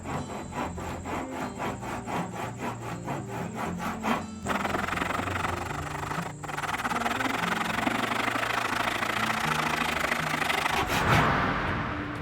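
The blade of a handmade wooden Purpleheart Bowie knife is sharpened, first with rhythmic rasping strokes about every half second, then a steady loud abrasive grinding that runs on without pause.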